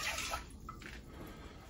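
Water is poured into a saucepan holding half a cup of rice, a brief, soft, steady splashing rush heard up close and alone.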